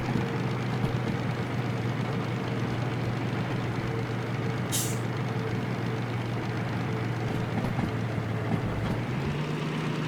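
A train engine labours under load while climbing a hill in the Derail Valley video game, a steady low droning rumble with constant mechanical noise throughout and a brief high hiss near the middle.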